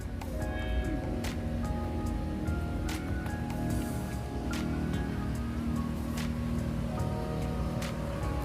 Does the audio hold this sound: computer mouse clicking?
no